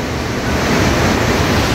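A waterfall on the Río Negro near Hornopirén, heard from a forest viewpoint as a loud, steady, broadband roar of rushing water with no breaks and no voices.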